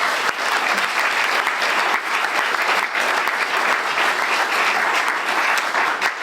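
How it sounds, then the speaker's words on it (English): Loud, sustained applause fills a press conference room for the Ironman Hawaii 2022 top men, dense clapping from a crowd that carries steadily without a break. "That's a big round of applause right there."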